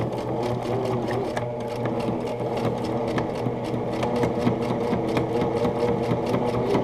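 A sewing machine runs steadily at a slow, even pace while stitching quilting fabric, its motor hum and rapid needle ticking close and loud with no talking.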